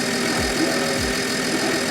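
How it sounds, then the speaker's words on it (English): A BMW E92 325i engine idles smoothly with a steady, even hum and a couple of low dips in pitch, loud and close, with no talking. "the engine is perfect, the engine sounds smooth"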